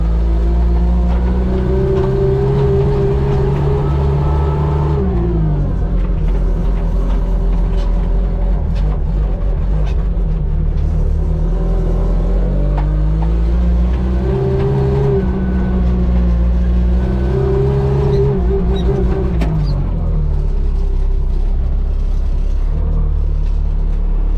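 A Chinese-made wheel loader drives along, its engine rumbling loudly and rising and falling in pitch as it revs and settles, a heavy steady mechanical drone close by throughout.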